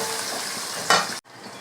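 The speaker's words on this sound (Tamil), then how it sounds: "வெங்காயம் சேர்த்து நல்லா வதக்கி விடுவோம் ஃப்ரெண்ட்ஸ்." Onions and curry leaves sautéing in a pan for crab masala, a close, continuous frying sizzle with a sharp stirring scrape near the end, then a brief cut and the sizzle resuming.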